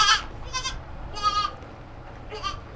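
Goats bleat at an animal care center, four short wavering cries spaced across a couple of seconds, moderately close with no talk over them.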